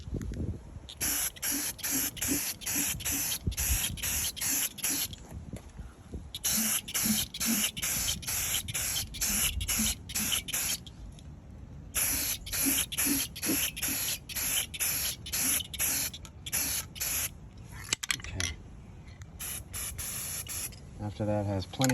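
Spray can applying a coat of paint to the wheels of an old Atlas industrial tool cart, rapid bursts of hissing spray in short repeated pulses with pauses between passes, close and steady.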